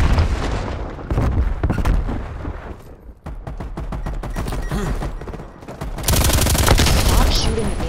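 Gunfire in the Call of Duty Cold War video game, loud rapid automatic bursts with booming shots and a dense sustained volley near the end.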